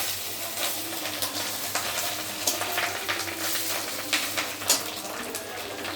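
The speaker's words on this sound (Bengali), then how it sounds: "এখানে মাছের ডিম ভাজা হচ্ছে" Fish roe frying in hot oil in a home kitchen, giving a steady close sizzle with scattered sharp pops and crackles over a faint low hum, with no talking.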